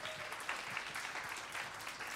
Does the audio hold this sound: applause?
yes